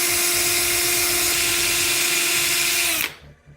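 A power drill whines loudly and steadily at high speed, then abruptly stops, leaving near silence.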